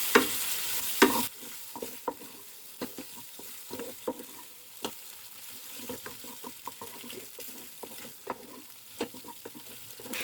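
Boiled pasta being stirred in an oiled pan, with a loud initial sizzle giving way to repeated scraping and clattering strokes over a soft frying hiss, close and steady.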